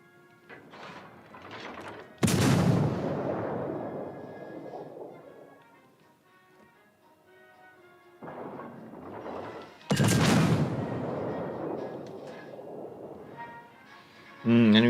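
Heavy naval guns on the cruiser Fiji in World of Warships boom twice in big salvos, each with a long rumbling decay. A ship's engine drones quietly between the shots, and faint speech is heard under it.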